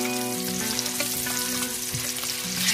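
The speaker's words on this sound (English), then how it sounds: "These are the fully cooked kielbasa sausage. And I just want to get a brown on these." Fully cooked kielbasa sausage browning in a hot pan, a close, steady sizzle with occasional stirring scrapes and a faint background hum, with no talking.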